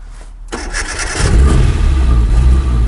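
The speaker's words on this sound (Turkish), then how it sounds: "Arabayı çalıştırıyorsun." A Tofaş car engine with start-stop cranks and catches after a quiet moment, then settles into a loud, steady low rumble close by.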